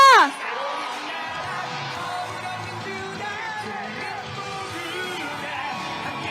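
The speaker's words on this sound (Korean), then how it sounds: "뜨거운 박수와 함성 부탁드립니다" Crowd at an outdoor presidential campaign rally in Wonju, Gangwon, cheering and whooping in a sustained roar, with scattered shouts and a voice briefly on a loudspeaker at the start.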